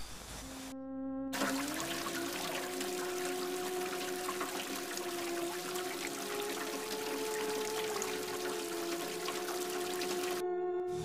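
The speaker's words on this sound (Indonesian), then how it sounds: "Tetapi lagi-lagi kran air itu terbuka." Water runs continuously from an opened tap, a steady rushing stream with a sustained tonal hum, starting abruptly and stopping just as suddenly near the end.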